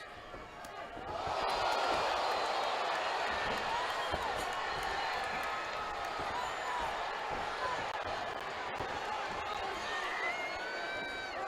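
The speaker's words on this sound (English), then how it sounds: "Crowd is loving these exchanges" A crowd roars and cheers steadily at a Reality Fighting MMA event, loud and continuous throughout, with a commentator talking over the noise.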